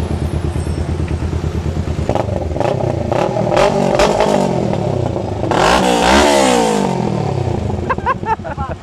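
A motorcycle engine is tested in the open air, idling with a steady rumble and then revved hard in several loud, rising bursts, close by.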